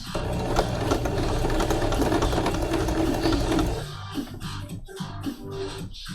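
Sewing machine stitching small stitches on a hood, with a steady close whirring hum that runs for about four seconds, then breaks into short uneven bursts and stops as the fabric is worked little by little.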